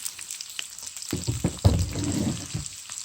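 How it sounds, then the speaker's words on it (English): Serrano pepper and garlic hitting hot oil in a pan with cumin seeds, a sudden burst of sizzling about a second in that settles into a steady fry, close and moderately loud. "pepper and garlic and just saute"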